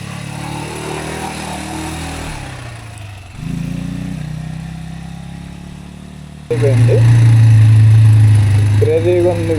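A scooter engine is started with the button while the front brake is held, on a ride in Wayanad. A voice talks over a quiet background, then the engine catches near the end and settles into a loud, steady idle.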